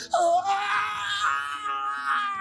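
A woman's scream played as a sound effect during a Dungeons & Dragons 5e tabletop session, a single sustained, loud, wavering high cry lasting a couple of seconds without pause, with no talk over it.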